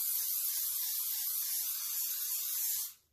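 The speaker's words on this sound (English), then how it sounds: "So we're going to give it a little spray oil." Cooking spray oil hisses steadily from a can into an unheated 10-inch decorative cast iron skillet, a continuous bright spray for about three seconds that cuts off abruptly at the end.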